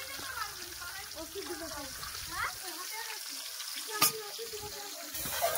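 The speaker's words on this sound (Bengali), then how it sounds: "কপিটাকে ভালো করে ভেজে নেবো" Cauliflower pieces sizzle in hot oil in a pan with salt and turmeric, a steady frying hiss with stirring and scraping clatter and one sharp knock, while a voice talks intermittently over the cooking.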